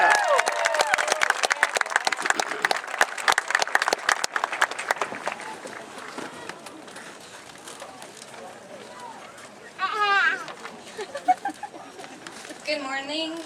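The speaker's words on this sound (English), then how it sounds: "Please give a round of applause for Isabel Flatley." An audience applauds and cheers for a student speaker at a school event, loud dense clapping for about five seconds that tapers off, followed by quieter crowd sounds and pigeon-like cooing near the end.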